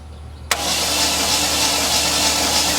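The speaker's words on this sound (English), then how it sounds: "crank it one more time" A Chevy Sonic engine with no compression after a loud pop under the hood is cranked without starting, a sudden onset into a loud, steady mechanical whir that holds close and unbroken to the end.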